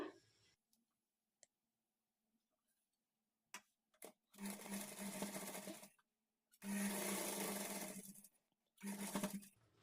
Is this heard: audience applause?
no